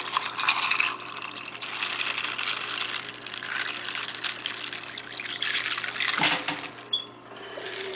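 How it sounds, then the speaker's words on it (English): A steady stream of filtered water pours and splashes into a GEVI Nugget countertop ice maker nearby, continuous and fairly loud, with a brief gurgle and shift near the end. "Throw some nice filtered water in there."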